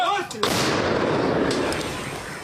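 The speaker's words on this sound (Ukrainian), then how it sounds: "Гармата!" A single heavy artillery cannon blast booms, followed by a long rolling rumble that fades slowly.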